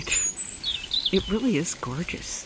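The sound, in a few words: birds singing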